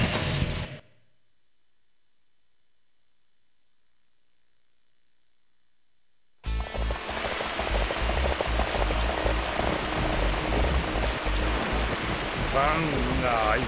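Heavy rain pours steadily in the PlayStation 2 game Dynasty Warriors 3 during a flood siege of Fan Castle, a dense continuous hiss that follows a short burst of sound and several seconds of silence.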